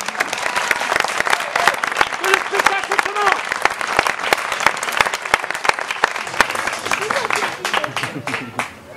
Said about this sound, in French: applaudissez ma troupe!